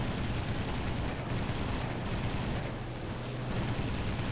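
Realistic-mode aerial combat in a flight video game with an MC 202 Folgore fighter. Loud, dense machine-gun fire roars almost without pause, briefly thinning a few times.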